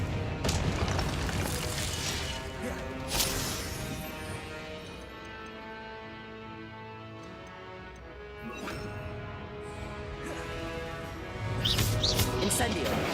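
Confringo blasting spells exploding in Hogwarts Legacy, several sharp bursts and booms scattered among game effects and music, with a voice speaking over much of it.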